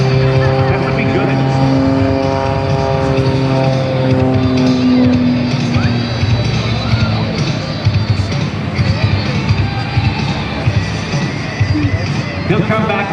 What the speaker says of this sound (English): Watch him go into the tumble using that great propeller combination and engine combination.